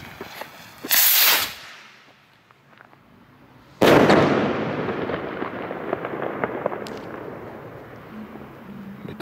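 Z1 zinc firework rockets on New Year's Eve, one loud launch hiss and burst followed by a second, longer crackling explosion that rings and decays over several seconds, heard outdoors with no talk.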